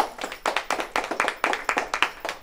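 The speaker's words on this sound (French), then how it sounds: "Donc, on peut l'applaudir." A small group claps by hand for a monthly lottery draw winner, sharp separate claps in a quick uneven rhythm, close and fairly loud with no talking over them.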